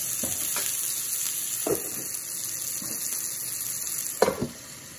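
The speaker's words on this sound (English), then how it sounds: "I think I'm going to dome it right now just to kind of get that steamed up" White Castle–style burgers with pickles steaming under a dome on a griddle, giving a steady, close sizzle and hiss with a few soft scraping knocks and a brief louder clatter near the end, no talking.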